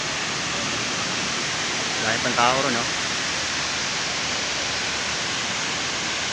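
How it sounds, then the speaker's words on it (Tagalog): Rushing water pours over the falls at Wawa Dam, a loud, steady roar that fills the whole stretch, with a brief bit of talking over it. "Lagaslas ng tubig."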